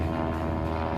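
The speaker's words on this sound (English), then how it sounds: "here we have an airplane." A steady, droning airplane engine hums in the Outer Banks, an even, continuous low rumble with no other sounds.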